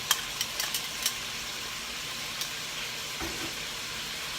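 Chopped onion sizzling in a hot pan for a Hungarian-style pot roast with beef and tomato, a steady close crackle with a few sharp pops and clinks near the start, no talking.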